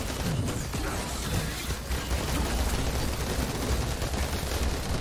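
Machine pistol firing in Marvel's Avengers, a dense and sustained roar of rapid gunfire and game combat noise filling the whole stretch, loud and continuous with no clear gaps and no talk.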